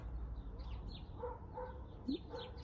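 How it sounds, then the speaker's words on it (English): A dog barks faintly in the distance from a garden in mid-March, giving a few soft, spaced barks among chirping birds. "When you don't hear the dog, you can hear the birds."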